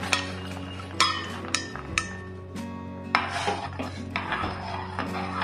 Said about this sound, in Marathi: धुवून घेतलेले शेंगदाणे टाकते